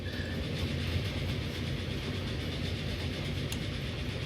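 A train rolls along the tracks in the Transport Fever rail simulation game, a steady, fairly loud rumble with faint rhythmic clatter that runs without a break and carries no talking.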